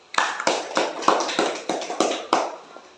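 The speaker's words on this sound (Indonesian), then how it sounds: "Boleh tepuk tangannya?" Students in a classroom clap their hands in a loose rhythmic burst of about eight sharp claps, near and fairly loud, with no talk over them.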